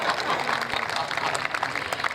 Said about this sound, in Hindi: और बात आप तक पहुंचे तो फिर आपकी तालियां उठनी चाहिए।